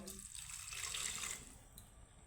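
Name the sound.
adding a little water to curry in pan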